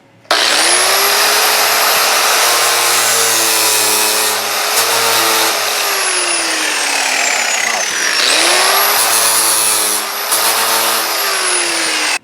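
A 7.5-inch grinder fitted with a flap disc spins up to a loud, high whine and grinds trim studs off a junkyard Cadillac, winding down near the middle before revving up again for a second pass.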